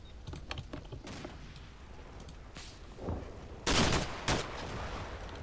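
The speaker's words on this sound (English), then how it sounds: "A bit of a burst and a 25mm grenade." A short burst of 25mm cannon fire with a grenade impact in Combat Mission, a modern-warfare tactics game, comes as a few sharp cracks followed by two loud, heavy blasts. No one speaks.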